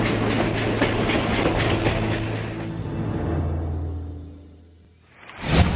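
A rehabilitated train on the Andes railway rolls past with rhythmic clickety-clack of wheels and a loud rumble that fades, then a sudden whoosh of hissing air rises at the end.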